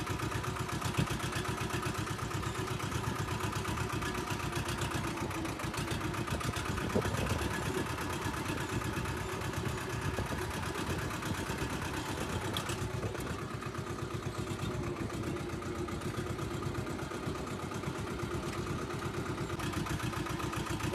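A tractor engine runs steadily in a field, a close, loud, continuous mechanical drone with an even pulsing rhythm and no talk.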